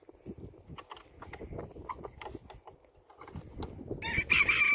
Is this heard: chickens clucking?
yes